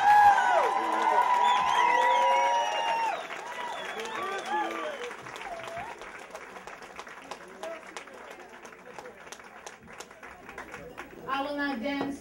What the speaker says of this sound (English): huge, huge round of applause for the wonderful,